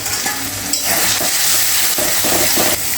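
Onion, garlic, ginger, turmeric and chili powder frying in hot oil, a loud, close, continuous sizzle broken by a few quick stirring scrapes, with no voices.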